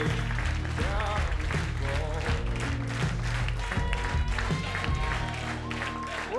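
A comedy club audience applauds in a steady, dense wash of clapping that blends with loud background music and lasts the whole stretch.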